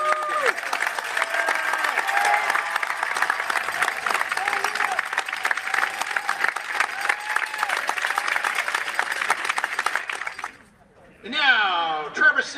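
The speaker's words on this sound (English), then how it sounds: "how about a big round of applause for all of our seniors from both schools" Long, full crowd applause with cheering for high school seniors at a marching band exhibition, a dense sustained roar that cuts off abruptly near the end, followed by a short burst of voices.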